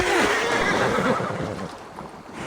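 A horse in Assassin's Creed Valhalla lets out a loud, close, wavering whinny that falls away into snorting and faint hoof sounds.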